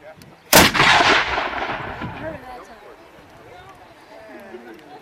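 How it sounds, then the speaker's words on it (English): An artillery gun fires a single loud, close blast that booms and rumbles away over a couple of seconds, followed by faint outdoor background sound. "Prepare to fire! Fire!"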